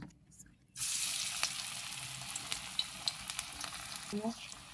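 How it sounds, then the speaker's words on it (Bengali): Lentil fritters drop into hot oil after a brief quiet moment, then a loud, close, continuous sizzle and crackle follows, with scattered pops and a light scrape near the end. "এবার আমি তেলটা গরম করে নিয়েছি। তেলে আস্তে আস্তে করে বড়াগুলো ছেড়ে দিব।"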